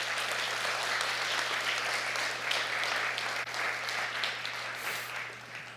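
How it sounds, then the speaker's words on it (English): Sustained applause from a summit audience fills the room, a steady mass of clapping at moderate level over a low constant hum, tapering slightly toward the end. "let's give her another round of applause"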